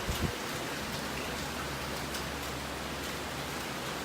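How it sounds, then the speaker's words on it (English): Rain falls outside in a steady, even hiss of drops with a faint low rumble underneath; it stays soft and continuous, with no talking. "It's kinda raining outside"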